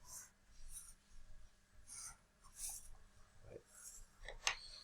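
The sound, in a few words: coloured pencil shading on paper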